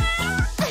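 A kitten gives a close, clear meow in a single drawn-out call that rises and falls in pitch.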